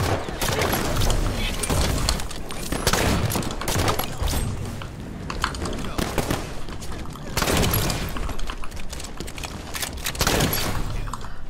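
Gunfire in Halo 5 during an Alpha Zombies tournament match: rapid, repeated shots and booming bursts fill the whole stretch, loud and close, with players talking over the action.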